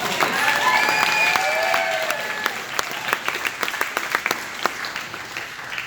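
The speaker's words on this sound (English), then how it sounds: "Can we please give one more round of applause for Mike Kimball?" Wedding guests at a reception give a hearty round of applause, loud dense clapping with a few whoops and cheers early on, thinning into scattered individual claps as it dies down.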